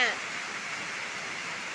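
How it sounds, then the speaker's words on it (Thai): Heavy rain pours down with floodwater rushing along a residential street and alley, a steady, dense broadband hiss that stays loud and even throughout, close and continuous. "ฝนตกแรงมากเลยนะคะ ด ูนะคะ น้ำไหลหน้าบ้านตาชานกับซอยบ้านน้องชมพู่นะคะ"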